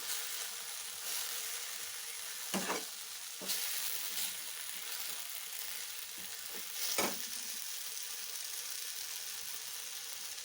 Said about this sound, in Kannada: ಆದ್ದರಿಂದ ಒಂದು ಸ್ವಲ್ಪ ಇದು ಹೀಗೆ ಫ್ರೈ ಆಗಲಿ.